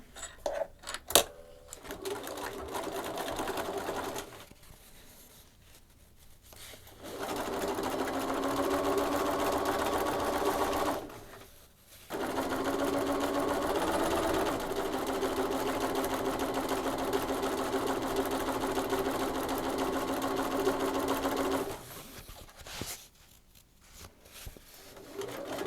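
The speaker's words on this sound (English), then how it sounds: "I'm going to finish sewing the belt and then call it quits" A sewing machine stitches the belt of a rain cape in three long, steady, rapid runs, close and fairly quiet, separated by short pauses with faint handling clicks.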